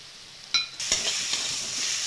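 Onion and chili powder frying in a pan for onion egg burji: a brief clatter of stirring, then a steady, bright sizzle that carries on without any voices.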